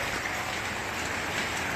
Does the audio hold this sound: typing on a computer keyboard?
no